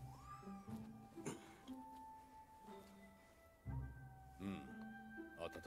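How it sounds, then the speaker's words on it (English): A cat meows in the video game Nioh 2, several short rising calls scattered over a game soundscape with tonal music, footsteps and effects, fairly close and clear. "How was that cat just there?"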